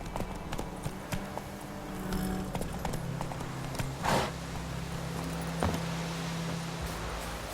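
Horse hooves clip-clop at a steady walking rhythm in The Witcher 3, close and moderately loud, with occasional creaks and faint background ambience.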